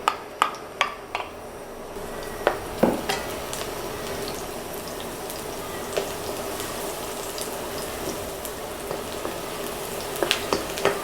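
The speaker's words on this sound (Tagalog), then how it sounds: "Sisimulan natin magisa ng bawang at sibuyas." Garlic sautéing in hot cooking oil for a Filipino crab in coconut milk dish gives a steady close sizzle, broken by sharp clinks of a utensil against the pan.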